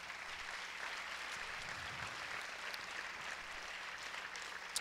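Steady, dense applause from a large congregation at a Portuguese-language church service, sustained throughout without a break and drowning out any voices.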